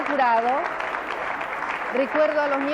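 A studio audience on a 1996 Argentine TV panel program applauds. The brief burst of clapping sits beneath loud, overlapping talk that dominates throughout.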